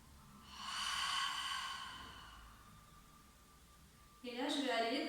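A woman exhales during a yoga breathing exercise, one long soft outbreath that tapers off, close and quiet, followed by a brief spoken phrase.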